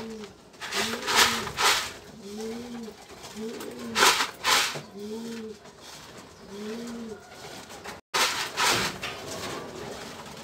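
Domestic pigeons coo repeatedly, close and fairly loud, with each soft rolling coo rising and falling in a steady rhythm over a faint background hiss.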